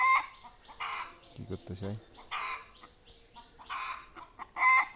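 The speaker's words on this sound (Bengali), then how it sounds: "ওই দুইটা ওই মুরগিটার কাছে এসে আত্মনাদ করতেছে অনেকক্ষণ ধরে মুরগিটাকে বাঁচানোর জন্য।" Chickens near a hen give loud, agitated squawks and clucks in repeated bursts close by, with someone briefly speaking between cries.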